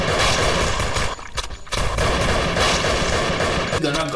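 Dense, continuous gunfire from the video game Thing Thing 4, loud and nearly unbroken with a brief lull in the middle, layered with game music and effects.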